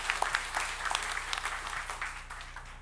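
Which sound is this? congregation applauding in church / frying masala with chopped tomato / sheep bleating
congregation applauding in church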